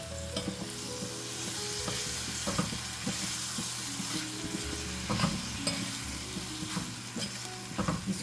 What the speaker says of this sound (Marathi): आणि आता ही सुकट आपल्याला दहा मिनटं मंद आचेवर शिजवून घ्यायची आहे